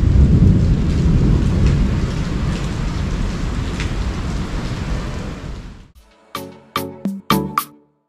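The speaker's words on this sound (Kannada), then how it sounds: "ಇವಾಗ ಇಲ್ಲಿ ಜೋರ್ ಗಾಳಿ, ಮಳೆ, ಗುಡುಗು ಮಿಂಚು ಎಲ್ಲ ಬರ್ತಾ ಇದೆ" Heavy thunderstorm with strong wind and pouring rain, a dense loud roar for about six seconds, then it drops away and a few sharp, separate cracks and thuds of thunder follow.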